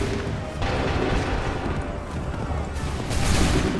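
A musket volley fired on command in Assassin's Creed 3, a dense burst of overlapping gunfire and crackling booms over battlefield rumble, loud and continuous for a few seconds.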